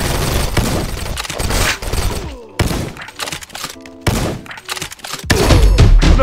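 Rapid, loud gunfire from a sniper rifle and other weapons in the shooter game Combat Master, dense overlapping blasts and thuds with brief gaps, close and forceful.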